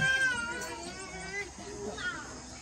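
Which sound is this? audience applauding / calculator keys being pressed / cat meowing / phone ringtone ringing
cat meowing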